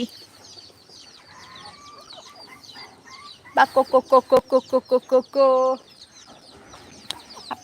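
Hens and a rooster cluck in a backyard coop, with soft chatter throughout and then a loud, close run of rhythmic, pulsing calls ending in one drawn-out squawk, before quieter clucking resumes.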